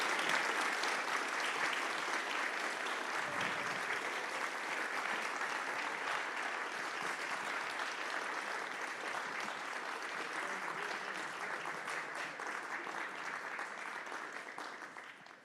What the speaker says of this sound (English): please give yourselves one more round of applause